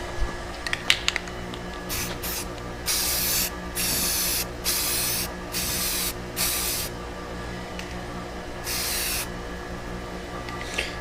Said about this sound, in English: we're just spray painting it